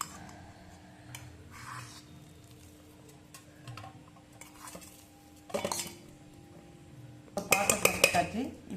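Sugar-free khoa dropped into a metal pot, giving a few soft clanks and scrapes of metal against metal, with a louder burst of clattering near the end, close and fairly quiet.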